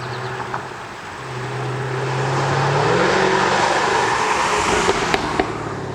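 A supercharged V8 in a 2015 Jaguar F-Type R Coupe with open exhaust, a loud, steady engine drone whose pitch climbs mid-pass, with a few sharp pops near the end and no voices.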